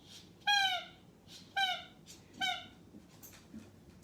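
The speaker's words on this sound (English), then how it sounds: "A dog just wanted her ball." A dog that wants her ball gives three high, wavering whimpers at a steady pace, close and clear against a quiet room, and a fainter fourth whine follows near the end.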